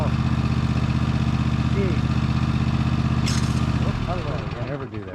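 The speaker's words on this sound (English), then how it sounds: "Go ahead and shut that engine off for me." A Toro TimeCutter 60-inch zero-turn mower with a Kohler engine idles loudly and steadily nearby, then dies away near the end as it is shut off; a voice speaks briefly over it.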